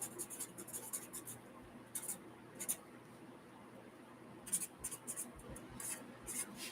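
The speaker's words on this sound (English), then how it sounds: "Let me write this down." Quiet scratching of a pen on paper in short, irregular strokes with brief pauses between them, close by and with no talking.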